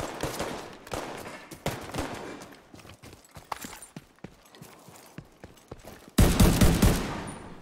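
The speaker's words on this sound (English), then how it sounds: "Shoot me through the chain link fence over here, hacker." Dense gunfire crackles in the online shooter Tom Clancy's The Division 2, with rapid overlapping shots and bursts at moderate distance, closing in a louder, harsher volley.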